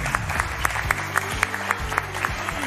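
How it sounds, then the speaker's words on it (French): A studio audience at a French television game show claps and cheers, a dense rolling applause with sharp accents, fairly loud and steady throughout. "on profite de vos applaudissements"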